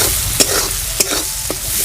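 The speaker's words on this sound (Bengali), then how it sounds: "এখানে পেঁয়াজ কুচি নিয়েছিলাম" Chopped onions frying in a pan for a village-style tomato egg curry, a steady close sizzle with three sharp spoon-scrape clicks of stirring spaced through it, no voices.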